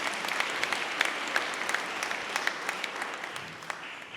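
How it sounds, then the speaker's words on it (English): An audience at a Black Business Hall of Fame induction ceremony in Tampa Bay claps for an honoree, dense sustained applause with distinct individual claps, moderately near, fading slightly toward the end. "Let's give our honoree a round of applause."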